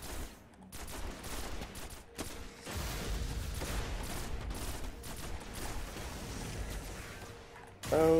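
Gunfire from a weapon in the video game Destiny: The Dark Below, rapid continuous bursts of shots with brief pauses, fairly loud and steady, ending in a short electronic tone.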